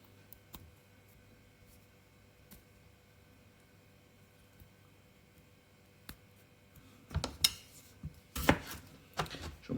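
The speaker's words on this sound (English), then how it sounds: "Chop them once, chop them twice, chuck them in the pan." A knife chops potatoes on a board. After a long quiet stretch with faint ticks, a quick cluster of sharp, close chops comes near the end.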